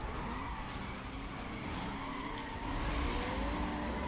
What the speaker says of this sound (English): Too much wheel spin